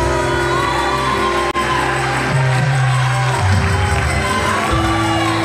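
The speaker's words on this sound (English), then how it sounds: "give the Lord a great big praise clap." Church congregation cheering and praising at a Sunday service, a loud crowd roar with shouts and whoops over sustained tones from music, continuous throughout.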